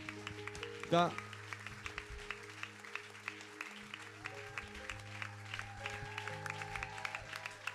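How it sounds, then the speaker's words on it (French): Church congregation applauding for the Lord in a service, sustained steady clapping under a loud speaking voice, with background music tones throughout. "On acclame bien pour le Seigneur"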